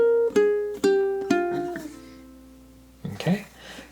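A ukulele fingerpicking melody with plucked notes in an even rhythm and a sliding note that fades out, followed by a brief strummed or picked flourish, close and clear.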